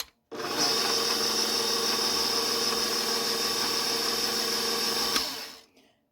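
An electric mixer blends salt and flour for empanada dough, its motor whirring at a steady, even pitch for about five seconds before winding down and stopping.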